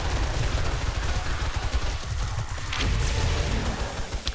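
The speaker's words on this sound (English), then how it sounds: "I was shooting a little bit too high just now" Dense armor-piercing gunfire in the video game 7 Days to Die during a horde defense, rapid continuous bursts filling the whole stretch at steady loudness with no talk.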